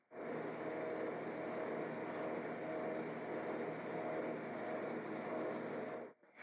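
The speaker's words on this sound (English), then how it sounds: "I'm going to hit everything with 320 by hand to get rid of any of the power sanding marks" A guitar body is hand sanded with 320 grit paper, a steady, close rubbing scrape that runs continuously for about six seconds before stopping briefly at the end.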